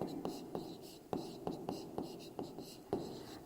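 A hand writes words in quick, evenly spaced strokes, each a short scratchy tap close to the listener, with a faint low voice underneath.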